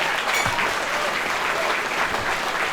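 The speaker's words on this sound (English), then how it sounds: "Let's give an applause for Joe Acapinti and the board." Audience applause at the NPDF 2024 annual awards dinner, honoring Joe Acapinti and the board: a dense, steady wash of clapping from a large crowd that holds evenly throughout without pause.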